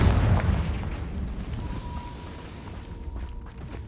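A Confringo blasting spell goes off in Hogwarts Legacy, a loud rumbling explosion that starts heavy and decays into a long, fading roar over several seconds.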